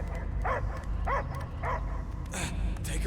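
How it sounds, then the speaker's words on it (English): A dog barks three times in steady succession in the video game Guardians of the Galaxy, the short sharp barks standing out over a rumbling low background. "I hear only barking."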